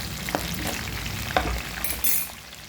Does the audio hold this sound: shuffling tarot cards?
no